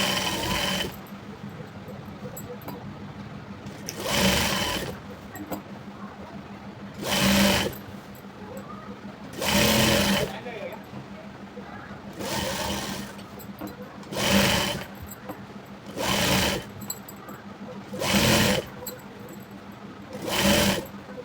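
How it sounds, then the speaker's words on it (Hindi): A sewing machine stitches fabric for churidar trousers in about eight separate loud bursts of whirring, each a second or so long, with quieter pauses between and no talk. "इसको इस तरह से हम सिलाई करके ले लेंगे।"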